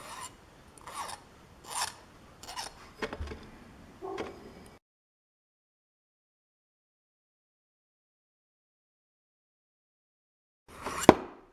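A file rasps over the rough circumference of a small part being trimmed, a run of uneven strokes close up, then silence and a final brief scrape.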